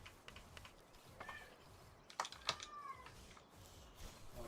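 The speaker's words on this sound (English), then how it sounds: "that whining is my kitty" A pet cat whines with a few short, faint meows over a quiet indoor background, with a brief louder cry and some light clicks, in a kitchen where chicken is being cooked.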